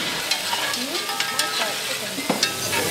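Gumbo ingredients are stirred together in a pot, giving a continuous close sizzle with repeated scraping strokes of a spoon and light clinks, all without voices.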